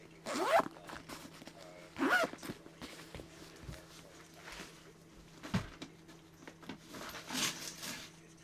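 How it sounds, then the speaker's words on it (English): A zipper on a craft bag tugged open and shut in several short rasping pulls, close up, with quieter handling rustles between them. "the zippers like to hang up on the corners"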